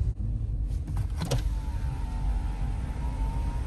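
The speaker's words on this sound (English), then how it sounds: "This is open it and closing the window." A car's electric power window motor whines steadily as the glass moves, preceded by a few short clicks and clunks, all over a low, constant rumble from the vehicle.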